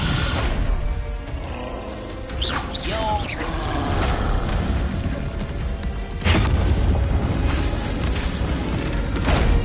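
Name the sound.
Descendo spell cast in Hogwarts Legacy video game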